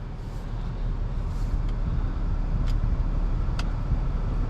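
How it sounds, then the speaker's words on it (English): A 2019 Acura TLX A-Spec sedan drives along the road, with a steady low engine and road rumble heard from the cabin throughout, broken by a few faint clicks. "the sound really comes on when you start driving"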